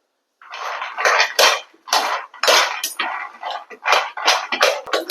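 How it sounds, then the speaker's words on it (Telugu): Groundnuts dry-roasting in a pan on the stove rattle and clatter in about a dozen loud, close bursts, one for each toss or stir of the nuts against the metal. "ఈ పప్పుల్ని మనం దోరగా వేయించుకోవాలండి"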